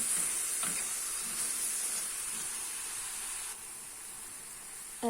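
Mushrooms with dried parsley fry in a pan, giving a steady hiss and sizzle that drops slightly in level partway through, with a faint clink at the very end and no talking.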